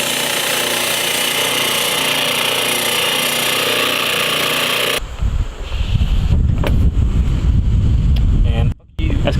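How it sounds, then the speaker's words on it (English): A wire wheel grinds against a car window guard to trim it, making a loud, steady, harsh whir for about five seconds that then cuts out to gusty wind noise and a rough background rumble. "he's going to trim it up a little bit here on the old wire wheel"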